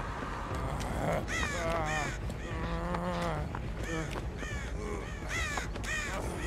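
A voice imitates crows cawing in the video game Dead by Daylight, giving a series of loud, close, repeated harsh caws in quick bursts with short gaps.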